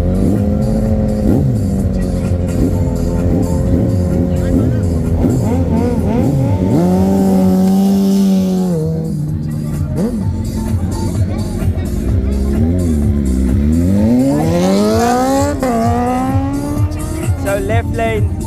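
Motorcycles drag racing at a desert rally, including a Suzuki Hayabusa, with loud engines revving and rising in pitch through launches, sweeping up near the end over a steady crowd murmur.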